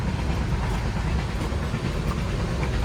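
A passenger train rolling along the rails, a steady, loud low rumble with faint rhythmic clatter throughout, no voices.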